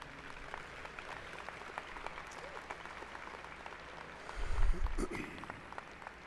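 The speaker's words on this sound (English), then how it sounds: "Graduates, I'd ask that you give this group a round of applause." Graduates at a high school commencement ceremony applaud a group of alumni, a faint, distant patter of clapping across a large hall that swells briefly near the end.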